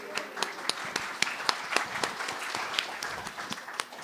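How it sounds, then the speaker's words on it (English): An audience at an evening author event in Leicester claps steadily, the sharp individual claps thinning out across a few seconds. "Round of applause."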